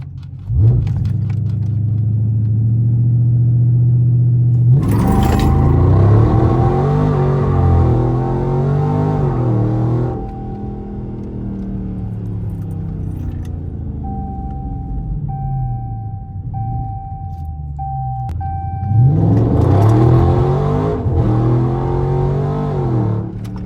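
A Dodge Charger Scat Pack on launch control, its V8 revving hard in two loud bursts separated by a steadier, lower engine drone, up close and with no talking.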